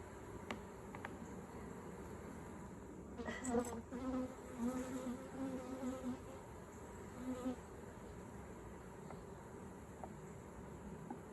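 A steady hum of many bees buzzing close by at an open beehive during inspection, a dense droning swarm with brief louder passes, no voices.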